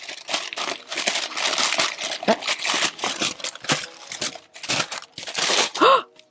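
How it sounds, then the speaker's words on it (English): Wrapping on a parcel crinkles and rustles close up as it is pulled open by hand, coming in busy irregular bursts with short pauses between them and one brief squeak near the end. "So let's unwrap it together."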